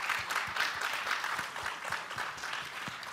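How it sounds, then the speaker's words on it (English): Audience applause at a conference session, a dense and steady patter of many hands clapping together for about three seconds, moderately loud with no talk. "Let's give them a warm applause."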